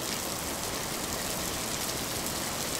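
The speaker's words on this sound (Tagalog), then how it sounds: "Kaso, umuulan eh." Steady rain falls continuously throughout, a dense even hiss with no voices or other distinct sounds on top.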